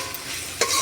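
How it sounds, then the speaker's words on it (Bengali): Chicken kosha being stirred in a pan, a brief close sizzle with a short scrape of the spoon near the end. "ওপাশে চিকেন কষাটা একটু নাড়িয়ে নিই"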